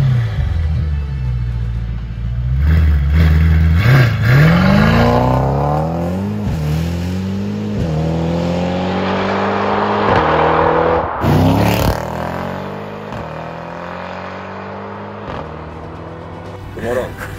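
A factory-new, four-wheel-drive Mercedes-AMG E63 S with a Ferrita exhaust accelerates hard. The loud, close engine roar climbs in pitch through several quick gear shifts, each marked by a brief drop before rising again, then fades toward the end.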